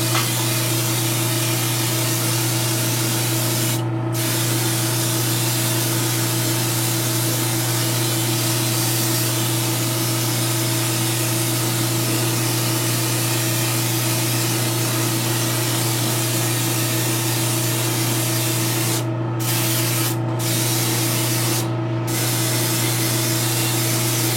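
Matte varnish sprayed from an aerosol can held about six inches from the surface, a continuous loud hiss over a steady low hum, broken by a few brief pauses.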